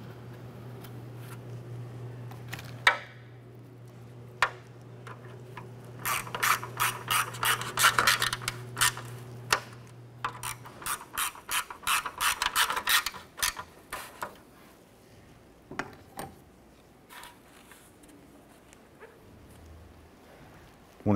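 Ratchet snugging down nuts on a 1993-1997 Ford Ranger grille during installation: rapid bursts of clicking in several runs, close up, after a steady low hum, with scattered clanks and no speech.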